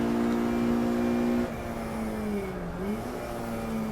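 Race cars at the Brands Hatch circuit roar down the straight, a loud continuous engine drone whose pitch shifts and dips as a car passes close by.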